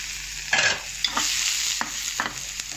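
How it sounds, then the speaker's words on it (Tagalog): Vegetables sautéing in a pan give a soft, continuous sizzle, with a few distinct stirring scrapes and clacks of a utensil against the pan; no voices. "Igisa natin yung gulay dyan."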